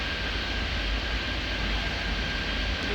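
A jet engine roars steadily from an MD-11 airliner in the airport game Airport Madness 3D, a loud continuous broadband rumble with no talk over it.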